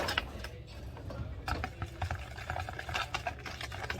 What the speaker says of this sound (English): Get that all whisked in together.